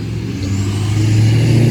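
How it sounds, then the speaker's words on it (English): A very loud truck passes nearby, a deep rumbling engine drone that swells steadily as it approaches, with no talking over it. "Sorry, that truck is, like, crazy loud."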